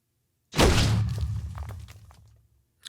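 A rocket rifle round explodes in the Minecraft Scorched Guns 2 mod, a single loud, sudden blast with a crashing, shattering burst that rolls and fades out over about two seconds.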